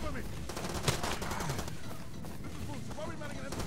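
Incoming mortar rounds and gunfire in the shooter game Far Cry 2, with a sharp blast near the start over a dense rattle of distant shots and battlefield noise.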